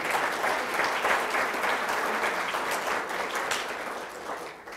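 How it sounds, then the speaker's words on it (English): An audience at a college hall of fame induction claps steadily for the speakers, a full, even wash of applause that tapers slightly at the end. "Let's give another round of applause for our speakers today."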